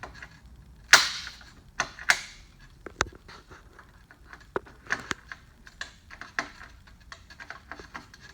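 A rivet tool pulls aluminum rivets on a Humvee HMMWV hard door handle, a series of sharp snapping clicks and pops at irregular intervals, close and crisp, with quieter handling clatter in between.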